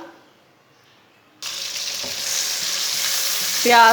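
Finely chopped onion hits hot oil and starts to fry, a sudden loud sizzle bursting in after a quiet moment and holding steady, with a brief stir near the end.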